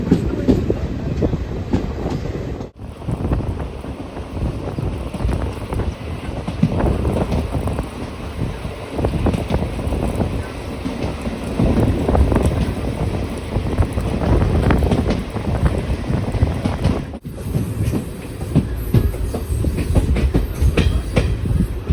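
The Madurai–Coimbatore Intercity Express runs on its rails with a continuous close rumble and rattling wheel clatter, briefly cut twice, plus wind noise, with no talking.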